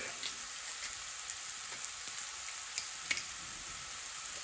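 Garlic sizzles quietly in a frying pan alongside onion, a faint continuous crackle with a few small pops and ticks and no voices.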